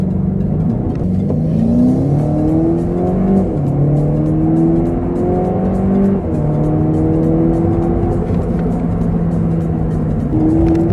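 A 2011 Volkswagen Polo GTI engine revs up repeatedly, pitch climbing through gears in close, loud, continuous bursts with brief dips between shifts.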